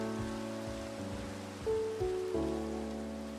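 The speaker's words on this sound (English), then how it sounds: "The rain." Rain in the Minecraft video game falls as a steady, soft hiss, faint and continuous, with light tonal music underneath and no talk.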